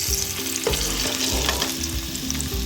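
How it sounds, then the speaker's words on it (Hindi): Cauliflower pakoras deep-fry in hot oil with a loud, dense bubbling sizzle, along with a few low thuds and scrapes of stirring, and no talking. "जो दूसरे पकोड़े हैं वो भी इसी तरह सारे फ्राई कर लेंगे"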